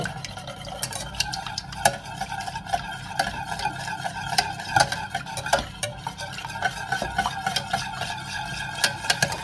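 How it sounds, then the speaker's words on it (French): A utensil scrapes and clinks around a pan as a lemon shortbread mixture is stirred, irregular repeated strokes over a soft bubbling background. "Allez, on mélange bien."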